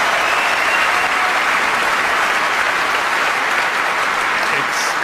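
Snooker crowd at Wembley applauding a shot, dense sustained applause that stays loud and even from start to finish, with no voices over it.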